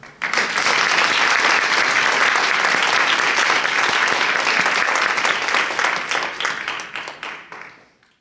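Sustained applause from an audience welcoming speaker Chris Reynolds to the stage, a dense wash of clapping that holds steady for several seconds and then tapers off near the end.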